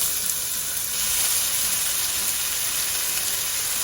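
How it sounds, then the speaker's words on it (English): Chopped onions for a chicken curry fry in a pan with bay leaves and cumin seeds, giving a loud, steady, bright sizzle and hiss that swells a little after the first second. "Then I'm going to add the chopped up onions."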